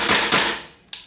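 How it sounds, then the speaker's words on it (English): A WE PCC gas blowback airsoft gun fires on semi-auto, giving two sharp, close reports in quick succession followed by a third crack at the end. "So we'll just test the blowback action so you can see it"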